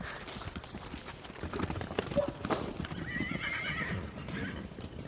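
Horses neigh and hooves clip-clop in an outdoor game scene, a busy steady patter of hoofbeats with a whinny rising now and then, all at moderate loudness with no talking.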